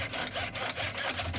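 A hand saw cuts a wood mitre joint with steady back-and-forth strokes, close and alone, each stroke a scratchy rasp in an even, slow rhythm.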